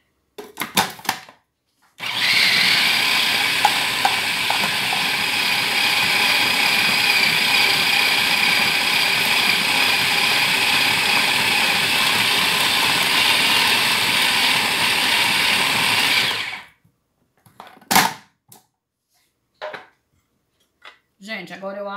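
A blender whirs loudly and steadily for about fifteen seconds, blending a sweet potato truffle mixture, with brief clicks and handling noises before and after.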